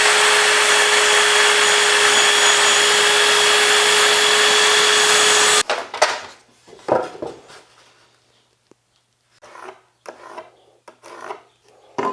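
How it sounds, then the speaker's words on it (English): A power tool cuts lumber for outdoor garden planter boxes with a loud, steady high-pitched whine and rasp for several seconds, then stops abruptly, followed by scattered knocks and handling of the wood. "First thing we gotta do is start cutting the lumber."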